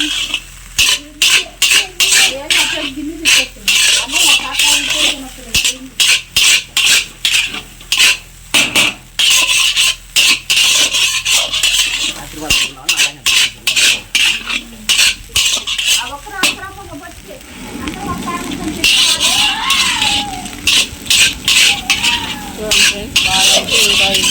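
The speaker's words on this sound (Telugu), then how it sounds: "రెండు మళ్ళీ మొత్తం కలిపే అంతా కలుపుకోవాలండి" Egg rice being stirred and mixed in a pan in a village-style kitchen, with a spoon scraping and clinking against the metal in quick, repeated strokes, close and fairly loud, while a person talks over much of it.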